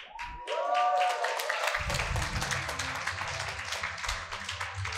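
An audience at a talk bursts into applause after a brief spoken phrase, a dense, sustained clatter of many hands clapping close by that carries on steadily to the end.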